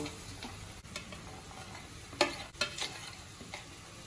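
Finely chopped vegetables stir-frying over onion, ginger and garlic for egg fried rice, a soft hiss with a few sharper scrapes and clinks of the spatula, fairly quiet, no talking.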